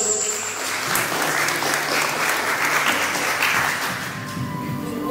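Guests at an eighteenth-birthday party in Trujillo give a farewell ovation, a full, sustained burst of many hands clapping close and loud throughout, with faint crowd murmur underneath.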